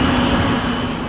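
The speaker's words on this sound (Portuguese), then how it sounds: "O avião está perdendo altitude e caindo." Flight 587, an airliner losing altitude and crashing toward Queens, New York, heard as a loud, steady, droning engine roar with no one speaking.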